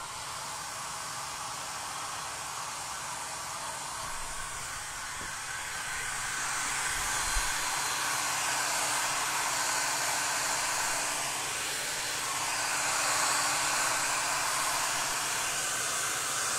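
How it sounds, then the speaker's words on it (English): A hair dryer blows steadily and close by onto a gessoed piece, a continuous airy whoosh with a faint motor hum that holds level from start to finish. "I'm gonna hit that hair dryer real quick on this gessoed piece."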